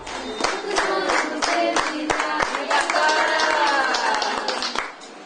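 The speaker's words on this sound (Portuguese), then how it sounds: "É chegada a hora de cantar os parabéns e aplaudir este ato de muito amor" At Clara's birthday party, sharp rhythmic hand claps keep time while a group of voices sings along, the beat steady and close for several seconds before fading out at the end.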